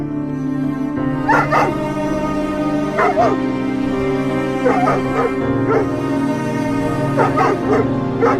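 Cartoon dog whimpering and crying in repeated short whines at intervals over steady background music, close and moderately loud, in an animated scene.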